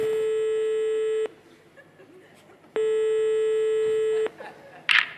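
A telephone line on a call to Garou sounds two long electronic ring tones separated by a short quiet gap, then a brief click and pickup noise at the end.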